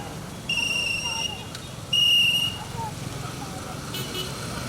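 Shrill whistle blasts from a traffic safety agent at a roadside in Benin, two sustained toots standing out over steady road traffic noise.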